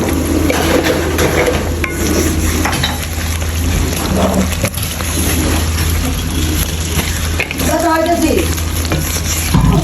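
Spices with ground coriander, homemade garam masala and white pepper sautéed in hot oil, giving a steady, loud sizzle with stirring scrapes, steady low background hum and occasional voices.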